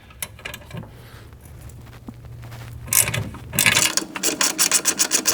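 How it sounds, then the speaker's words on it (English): Ratchet loosening a 13mm nut and bolt on the rear sway bar link of a Volkswagen MK7 GTI, starting with faint rubbing and clicks, then building into loud, rhythmic ratcheting strokes close by with no talking. "This is a 13mm nut and a 13mm bolt, so I got 13mm on both sides. We're going to loosen these up on both sides."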